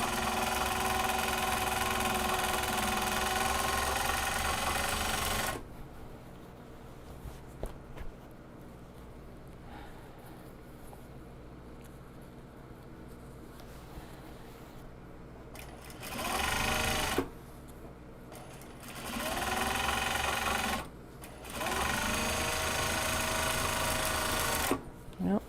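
A sewing machine stitching the end seam of a small box bag runs in loud close bursts, at the start and again briefly near the end, with quieter stretches of handling and shuffling between them.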